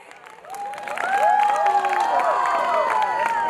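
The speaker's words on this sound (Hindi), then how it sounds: "कोटा वाले जरा जोरदार तालियां बजा दें" Guests at a Bollywood wedding sangeet cheer and clap, quiet at first and then swelling into a loud crowd roar with whoops and shouts that holds steady.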